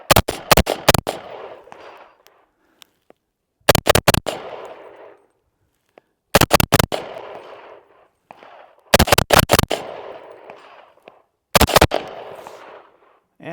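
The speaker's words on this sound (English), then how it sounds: "First time I've ever shot 300 Blackout." Rapid bursts of gunfire from a pistol chambered in 300 Blackout, fired outdoors in five clusters of several quick, loud, sharp shots each, every burst trailing off into echo before the next.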